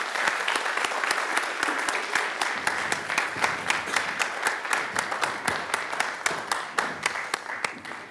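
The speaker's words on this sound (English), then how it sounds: "Let's give them a round of applause as a welcome." A scholastic bowl audience applauds steadily as competing school teams walk out, sharp dense clapping sustained for several seconds with no voices over it.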